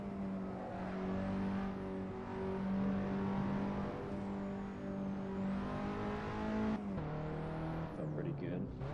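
In the Assetto Corsa racing game, a car's engine drones steadily at high revs, then drops sharply as it brakes hard, the pitch falling away near the end.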